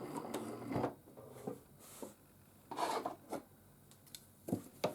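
A sewing machine runs in short stop-start bursts while free motion quilting along a seam line on half-square-triangle blocks, its stitching faint and close with quiet pauses between runs.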